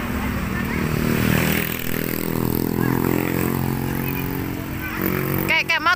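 A motorcycle engine drones steadily along a foggy mountain road, close and fairly loud, its note shifting as it passes, while someone talks over it throughout.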